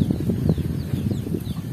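Low, soft clucking from chickens repeats in short bursts close by, with faint high chirps above a steady murmur.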